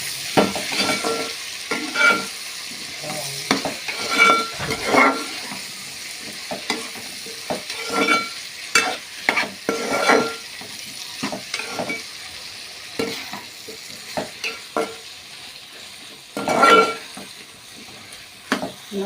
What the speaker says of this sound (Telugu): వంకాయ ముక్కలు ఇలా అన్నీ కూడా ఈవెన్గా ఫ్రై అవ్వాలి